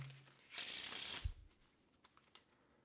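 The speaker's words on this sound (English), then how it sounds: "First, we'll give the cards a shuffle." A deck of playing cards being shuffled during a magic trick, a dense riffling burst lasting about half a second at close range, followed by a soft thump and faint scattered ticks.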